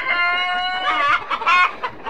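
Tiger breed parent chickens, hens and roosters on a small farm flock, clucking and calling in overlapping bursts, close and fairly loud with no talk.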